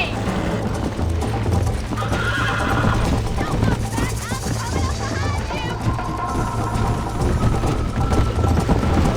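A horse in the video game Red Dead Redemption gallops with rapid clip-clop hoofbeats and lets out loud, repeated neighs and whinnies, with game voices mixed in.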